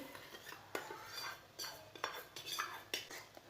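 Spoon mixing a vegetable kebab mixture in a bowl, quiet rhythmic scrapes and clinks of metal against the dish, repeating every half second or so, close and faint.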